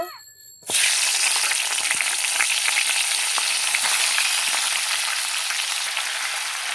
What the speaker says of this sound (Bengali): ওই তেলে আমি ফুলকপিটা ভেজে নেব